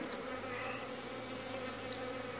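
Honeybees hum in a dense, steady drone during a hive inspection, close and continuous with overlapping wingbeat tones and no voices.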